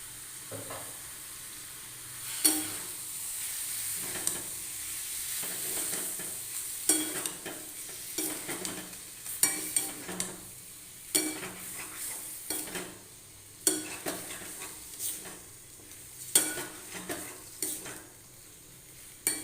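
Potatoes fry in ghee in a pan while being stirred with turmeric and salt: a steady soft sizzle runs throughout, broken by repeated scraping and clinking strokes of a spoon against the pan at an irregular, unhurried rhythm.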